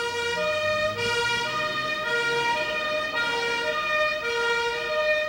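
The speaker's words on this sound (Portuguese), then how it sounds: "olha só como que eles acionam o alarme" Fire station alarm siren at a Brazilian fire brigade (Corpo de Bombeiros) in Minas Gerais, sounding as a loud, steady electronic tone that swells and dips in regular cycles about once per second, continuous throughout with no talk.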